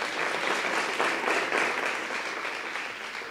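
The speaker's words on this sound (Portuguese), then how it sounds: "Vamos aplaudir o slammer, rapaziada!" Audience applauding a slam poet at a literary panel marking 40 years of Cadernos Negros, a steady wash of clapping that holds evenly for a few seconds and then begins to fade slightly.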